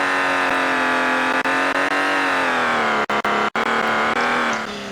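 Race car engine in a driving video game, a 1.5 V8 held at high, steady revs during a burnout, loud and continuous with a few abrupt cuts near the end.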